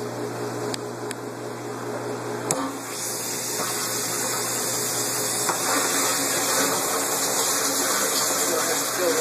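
A water pump in an aquaponics fish room runs continuously as it fills a barrel, giving a steady hum and whir with rushing water that grows a little louder partway through, punctuated by a few clicks.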